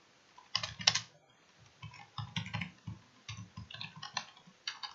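C# code is typed on a computer keyboard with close, crisp key clicks in irregular bursts and short pauses between them, and no talking.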